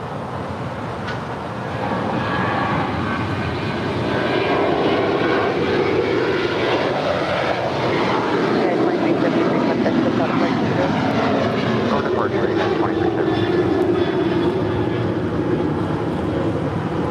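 An airliner takes off from runway 25 right at LAX, a broad engine roar building and holding loud for many seconds, with radio chatter and voices faintly underneath.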